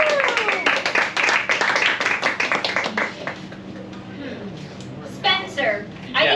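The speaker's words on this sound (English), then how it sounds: "Round of applause." Audience at an improv comedy show claps and cheers in a dense burst of applause that fades over a few seconds, with chatter and a host's voice carrying over the thinning claps.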